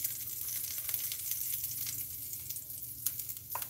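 Chopped green chili hits a hot pan in a broccoli stir-fry, giving a soft, steady sizzle with a few brief crackles and spatters near the end.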